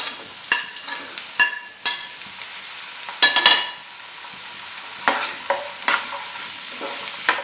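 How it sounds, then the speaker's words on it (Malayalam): Chopped potatoes frying in a pan for a Kerala-style potato stir-fry, with sharp, irregular spatula scrapes and clatters over a light background sizzle, close and fairly loud, with no voices. "അതിനുശേഷം നമുക്ക് അരിഞ്ഞു വെച്ചിരിക്കുന്ന കിഴങ്ങ് ഇട്ട് കൊടുക്കാം."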